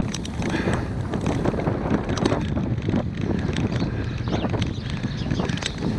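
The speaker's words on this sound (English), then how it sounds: "And there's a little bit of wind on the return." A chilly wind roars and buffets the microphone while a rider cycles along in North Lincolnshire in January, making a dense, steady rush with no break.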